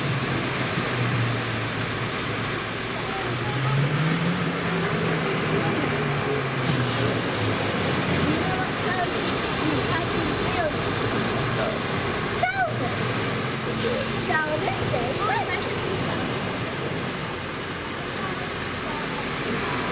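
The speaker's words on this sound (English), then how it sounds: "Now we can hear the waves." Ocean waves wash in a continuous, surging roar that rises and falls, while a calm voice guides a meditation over them.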